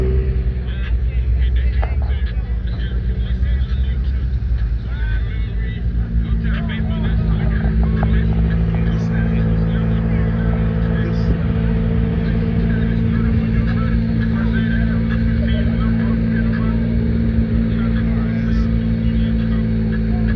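At a car show in Muskegon, Michigan, engines rumble and rev loudly and continuously in a crowded outdoor setting, with people talking throughout.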